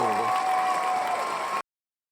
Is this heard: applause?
yes